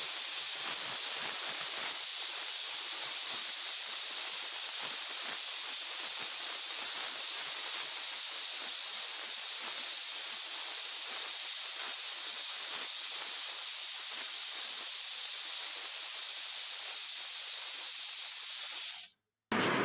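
A pressure cooker whistle vents a loud, continuous rush of hissing steam close by in a home kitchen, sustained evenly for nearly twenty seconds before cutting off abruptly.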